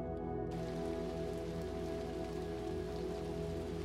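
Steady rain pours on surfaces in the game Little Nightmares II, a dense, continuous patter that fills the scene evenly from start to finish with no voices over it.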